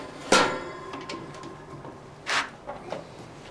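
An Ecoque grill insert slides into place with a sharp metallic clack, then its latch shuts in a second clunk followed by a couple of softer taps, all close and fairly loud with no talking.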